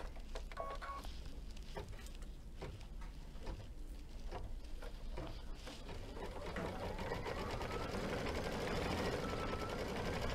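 An embroidery machine stitching a letter in black thread over wash-away stabilizer runs steadily and close, a continuous rapid needle patter and motor hum filling the whole stretch.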